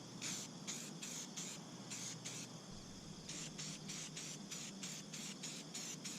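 A spray can lays a white base coat onto a hand-carved wooden wakebait lure in rapid short bursts, the hissing pulses repeating in quick groups with a brief gap midway, close and fairly quiet.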